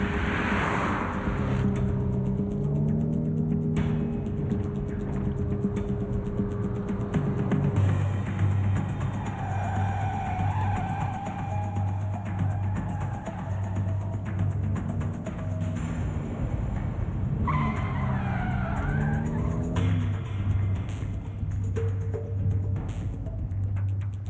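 A car engine turns over and revs as the car pulls away fast, with a rising drone, sharp gear-like pitch jumps and rough scraping bursts in the middle, fairly loud and with no talking.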